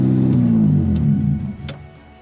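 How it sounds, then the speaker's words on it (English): A Honda Del Sol with a ruined, badly leaking exhaust starts up for the first time, its engine churning out a loud, rough, low rumble that idles unevenly and drops off as the car settles. "That is the worst exhaust I've ever heard."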